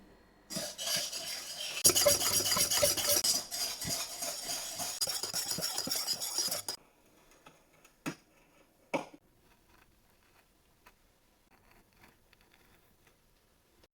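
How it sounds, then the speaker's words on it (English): Eggs and sugar whisked into a creamy mixture in a bowl, rapid rhythmic whisk clatter for several seconds, then stopping with a couple of isolated taps and near quiet. "I am adding 100 grams of sugar. Whisk until it becomes so creamy."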